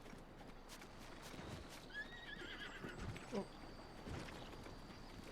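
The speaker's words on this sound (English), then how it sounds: "I just heard a horse." A horse in a video game whinnies in a rising, wavering call over steady outdoor ambience, with a few clip-clop hoofbeats nearby and some faint talk.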